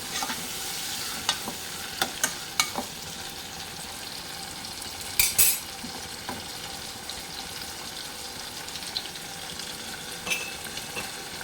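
Tomato pieces frying in a pan for a moong dal fritter curry, a quiet steady sizzle with occasional sharp clinks and scrapes of a spoon stirring, no voices.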